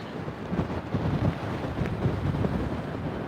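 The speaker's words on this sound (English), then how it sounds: "Yeah, the wind is so strong" Strong wind buffets the microphone on the Long Island City waterfront in Queens, a steady broadband rumble with gusts swelling and easing throughout, no speech.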